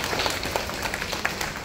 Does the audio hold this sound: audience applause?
yes